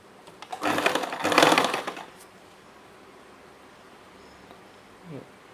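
A sewing machine stitching blouse fabric runs in one short, buzzing burst of about a second and a half, then stops, leaving a quiet room with a faint click near the end.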